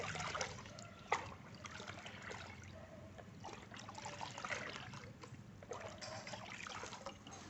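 Water sloshes and trickles as a six-water compost mixture is stirred, soft splashes and dribbles repeating close up at low volume.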